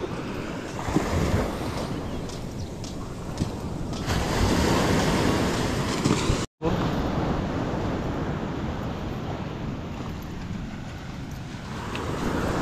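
Sea waves surge up to a beach cottage on the shore with a continuous rushing, churning wash and some wind buffeting, steady and fairly close throughout apart from one momentary dropout.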